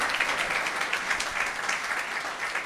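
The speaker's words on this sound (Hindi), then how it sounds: "आइए ताली बजाएंगे प्रभु की महिमा के लिए" Congregation at a Good Friday church service clapping together in praise, a steady, fairly quiet patter of many hands that keeps on without a break.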